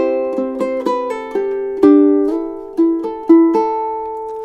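Fingerpicked ukulele plays a quick melody of about a dozen bright plucked notes in an uneven rhythm, close and clear, each ringing briefly into the next.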